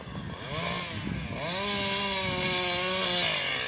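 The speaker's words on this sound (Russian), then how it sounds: "потому что там пилют. В данный момент деревья." A chainsaw cutting trees near a riverside embankment in Pskov, a steady droning whine that rises in pitch, heard at moderate distance with no talk.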